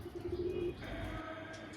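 A female Madrasa pigeon at a pet shop coos softly and low at close range, a brief throaty call followed by faint chirps amid quiet background noise.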